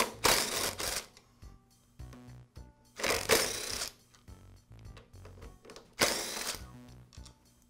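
Screws being backed out of the primer base on a Briggs & Stratton small engine: three loud bursts of rapid clicking, probably a power driver, separated by quieter handling and small metallic clicks, close up with no talking.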